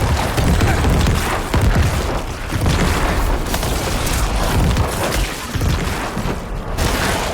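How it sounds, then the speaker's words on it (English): Corpse explosions in Diablo IV, a dense barrage of loud booming blasts and bursts that overlap in rapid, irregular waves with almost no gaps between them. "It's gonna pop off tons of corpse explosions."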